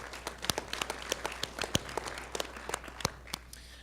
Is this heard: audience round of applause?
yes